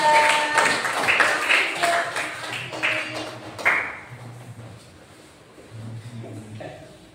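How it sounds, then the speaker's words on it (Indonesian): Schoolchildren in a classroom clap for a group, a brisk mix of claps and voices for the first few seconds that then dies away into quieter talk. "Tepuk tangan untuk kelompok 3."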